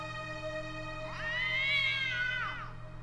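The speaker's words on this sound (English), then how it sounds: "Meow." A cat gives one long, drawn-out meow in the horror video game Ju-On: The Grudge, rising and falling over a steady low electronic hum and tone.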